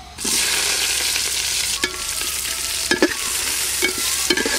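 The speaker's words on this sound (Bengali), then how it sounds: "পেঁয়াজ কুচিগুলো একটু লাল লাল করে ভাজবো।" A loud, continuous sizzle of chopped onions frying in the pan, broken now and then by scraping stirs, with no one speaking.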